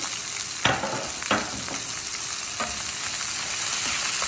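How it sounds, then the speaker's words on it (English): Garlic, bell pepper and tomatoes sauté in a pan for Jamaican mackerel run down, with a steady close sizzle broken by a few sharp stirring scrapes early on. "So I'm going to let this saute until I start smelling all the wonderful flavors of these aromatic vegetables."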